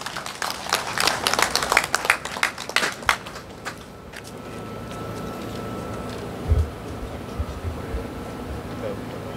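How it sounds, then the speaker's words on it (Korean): Crowd at a construction workers' union rally and head-shaving protest in Daejeon-Sejong gives dense, lively applause for a few seconds, which then dies away into quiet room murmur and faint talk. "힘찬 박수로 환영해 주십시오."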